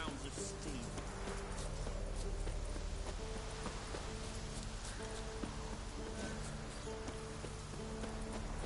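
Horse hooves clip-clopping in The Witcher 3: Wild Hunt, a steady rhythmic patter mixed with rain on surfaces and faint game music, with talk over part of it.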